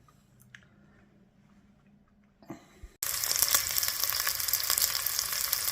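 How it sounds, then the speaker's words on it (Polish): Onion hits a hot pan and sizzles loudly and steadily, following a few seconds of quiet kitchen handling. "Obsmażamy cebulkę."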